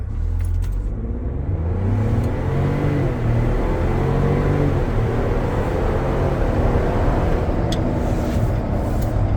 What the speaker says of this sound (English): let's go ahead and check out throttle response from the get-go here.